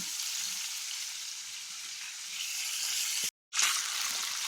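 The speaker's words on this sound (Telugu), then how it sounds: "ఆయిల్లో రొయ్యలు వేసి ఫ్రై చేసుకోవాలి" Prawns sizzle in hot oil in a pan, a steady bright hiss that holds evenly, cuts out briefly near the end, then resumes just as strongly.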